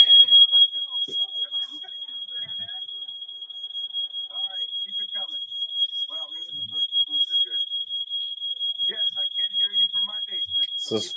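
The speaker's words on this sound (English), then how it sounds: "that's the fire alarm down here and the fire alarm up top." A household smoke alarm blares during a home live stream, the kids having caused it while cooking: a loud, unbroken high-pitched beeping tone held throughout while people talk underneath.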